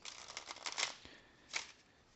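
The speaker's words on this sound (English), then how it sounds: "I am going to give them a shuffle, though." Cards are shuffled close up in a quick riffle of soft flutters and taps, followed by a second brief riffle.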